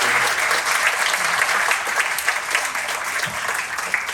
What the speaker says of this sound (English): give them a round of applause for